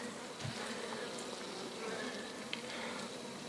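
Honey bees near walnut trees beside a large rapeseed field keep up a dense, continuous buzzing hum, steady and moderately close, without voices.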